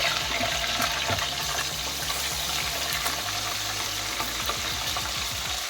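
Green chillies and ginger-garlic paste fry in a hot tempering for a fish curry, giving a steady dense sizzle with crackling pops and a scraping stir now and then, close and continuous with no talk.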